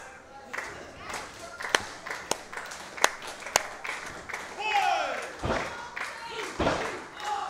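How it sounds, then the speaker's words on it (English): A wrestling crowd at a singles match claps in sharp, evenly spaced single claps that swell into scattered applause, with an announcer talking over it. "Crowd trying to get behind TT Boy"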